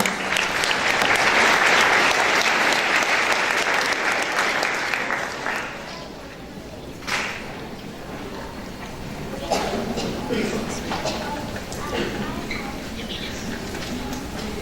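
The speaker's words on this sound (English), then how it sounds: "Round of applause." Loud audience applause fills a scholarship awards night for a graduating high school class, a dense sustained clapping that peaks early and then thins to a steadier, lighter patter as the hall settles.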